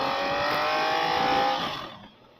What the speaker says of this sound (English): I want to focus on some of the power of the bike.